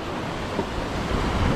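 Ocean waves crash and churn steadily against the rocks of a sea glass beach, a dense, continuous roar of surf with wind buffeting the microphone.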